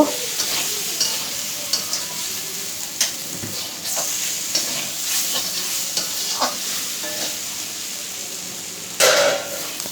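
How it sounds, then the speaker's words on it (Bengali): A spatula stirs eggplant in a pan over steady sizzling, with frequent scraping taps and clicks against the metal, close by. "এটাকে আর একটু নাড়াচাড়া করে আমি এটাকেও নামিয়ে নিব"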